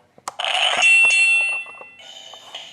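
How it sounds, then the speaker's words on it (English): A short electronic victory jingle from the Scrabble Turbo Slam game, bright chiming tones playing alone, a quick rising flourish followed by a softer held chime at the end. "we might as well close off the video with the victory sound"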